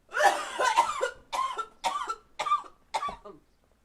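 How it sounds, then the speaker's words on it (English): A run of about six coughs during a Call of Duty: Modern Warfare II session, from dense near hacks to shorter, fading ones spaced roughly half a second apart, loud and close with no talk. "The dab is making you cough."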